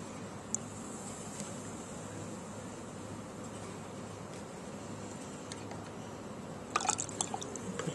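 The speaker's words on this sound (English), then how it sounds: "I'm going to go ahead and put 1 teaspoon of lemon juice and add that to my container with the baking soda" Lemon juice poured onto baking soda in a container sets off soft drips and then a faint crackling fizz near the end, quiet and close.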